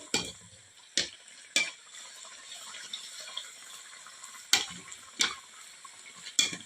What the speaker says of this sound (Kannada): ಹೀಗೆ ಮೇಲೆಯಿಂದ ಸ್ವಲ್ಪ ಎಣ್ಣೆ ಹಾರಿಸಿದರೆ ಉಗ್ತದೆ ಫ್ರೆಂಡ್ಸ್